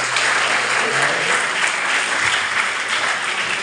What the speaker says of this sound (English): and a great applause for this guy.